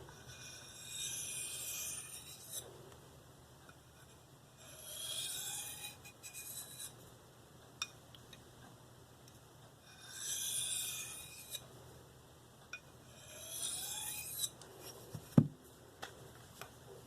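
An Eafengrow CH3001 knife in D2 steel drawn across a Spyderco medium bench stone with light pressure: several slow, steady rasping passes of a couple of seconds each, separated by quiet pauses, close and soft, with no talking.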